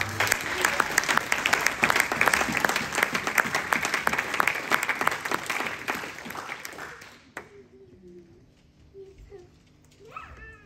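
Congregation at an evangelistic church service applauding and cheering loudly in a sustained wave of dense clapping for about seven seconds, then breaking off abruptly into near silence with faint scattered sounds.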